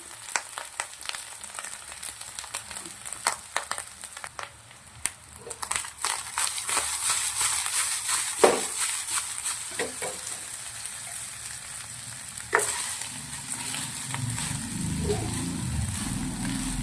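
Rice with cashews and cumin frying in a pan gives a steady sizzle broken by sharp scrapes and knocks of stirring, close up, with a duller rumble near the end.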